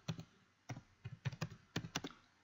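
Close, quiet typing on a computer keyboard, about a dozen crisp key clicks in quick irregular bursts with short pauses, no voices.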